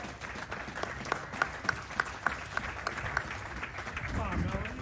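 Scattered applause from a small audience at a community gathering, light and uneven, with a few louder claps standing out over a low murmur.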